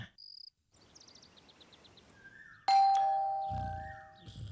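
A doorbell rings in a Hindi-dubbed South Indian action movie scene: a short bright chime, then a ding-dong pattern over a background of crickets and insects, followed by a louder sustained tone with low rumble.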